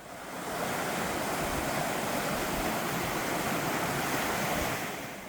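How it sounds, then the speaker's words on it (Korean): Gucheon Falls, a waterfall in the Muju highlands, roars as a steady broadband rush of falling water that swells in after a brief fade-in and holds constant before easing off at the end. "마지막 제33경 구천폭포입니다."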